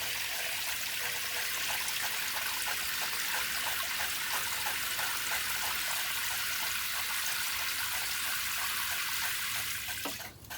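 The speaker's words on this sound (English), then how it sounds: "I'm just going to add the water to our pot." Water pours steadily into a pot for a small solar fountain, a continuous bright splashing trickle that runs close and unbroken for about ten seconds, with no talking.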